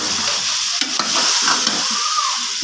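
Meat curry with tinda is browned in a pot. Its loud close sizzle runs under a few stirring scrapes and clinks of a spoon, with no talk.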